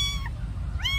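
A kitten bitten by ants cries out in two plaintive meows, one brief and one rising, over low background rumble.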